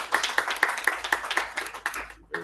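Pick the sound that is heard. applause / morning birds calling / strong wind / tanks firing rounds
applause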